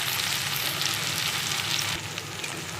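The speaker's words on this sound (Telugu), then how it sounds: "ఎల్లిపాయ, చింతపండు అన్నీ వేసుకున్నాం. మగ్గినాయి." Garlic and tamarind sautéing in a pan for a roti pachadi chutney, a steady loud sizzle and crackle of frying with no voices.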